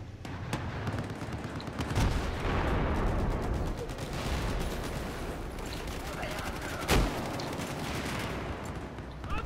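Dense, sustained video-game gunfire from a German-language first-person shooter, continuous rapid shots and booms filling the whole stretch with one sharp louder blast near the end, loud throughout.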